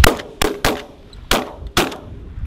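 Gunshots ring out outdoors during a field hunt, five loud, sharp reports in an uneven sequence, each followed by a short echoing tail.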